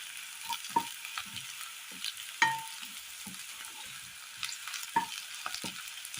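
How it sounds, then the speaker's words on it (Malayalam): Onions sauté in a pan, with soft intermittent stirring scrapes and utensil taps over a faint, quiet sizzle. "ഉള്ളി ഒരുപാട് മൊരിയേണ്ട ആ പച്ചപ്പൊന്ന് മാറി ഒന്ന് വരുന്ന് കിട്ടിയാൽ മാത്രം മതി"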